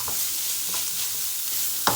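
Egg fried rice stir-fries in a pan, a steady sizzle broken by a few sharp scraping stirs, one louder near the end.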